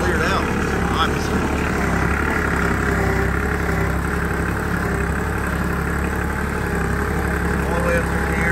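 A tractor engine idles loudly and steadily nearby with a constant rumbling drone, while someone talks over it.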